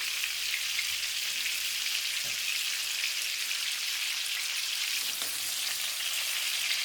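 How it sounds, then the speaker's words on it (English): Beef sears in a hot pan of cooking oil, giving a steady, dense sizzle that stays even and close throughout with a few small pops and no talking. "And then what we're gonna do is we're gonna sear this meat."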